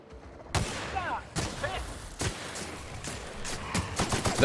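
Revolver shots in The Outer Worlds, a special revolver firing explosive rounds, ring out as sharp, loud cracks at irregular intervals, about half a dozen, with a brief voice heard between shots.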